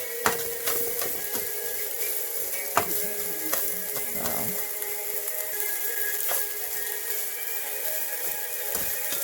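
Red and white onions fry in a little oil for Chinese-style fried rice, giving a steady, close sizzle with occasional sharp clicks and a brief scrape of stirring partway through.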